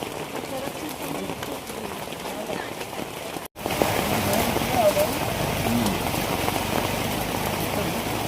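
Steady rain hisses across the whole stretch, loud and close, at a crowded vada pav stall in Thane, with a brief cut midway and voices murmuring beneath.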